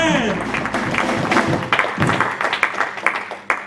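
A church congregation applauding, a rapid wash of many hands clapping that grows more pronounced and percussive toward the end, mixed with a loud voice and crowd noise.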